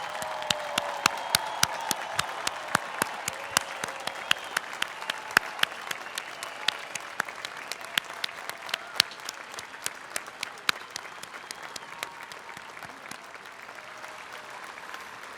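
A graduation convocation audience at Northwestern's Weinberg College stands and applauds the graduates. Dense, sustained clapping carries on for the whole stretch, with sharp individual claps popping out of the steady roar, and no talk over it.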